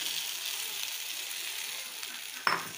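Potatoes hiss into hot oil for a boal fish curry, a steady broadband sizzle running throughout with a sharp splattering crackle near the end as the pieces hit the pan.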